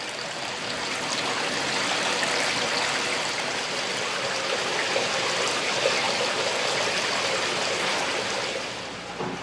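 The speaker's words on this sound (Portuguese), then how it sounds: "Os onsen são banhos tradicionais que utilizam esta água quase sempre a ferver e com virtudes" Hot spring water runs steadily through Yunomine onsen village in Japan, a continuous loud rushing and trickling wash with no breaks, fading slightly at the very end.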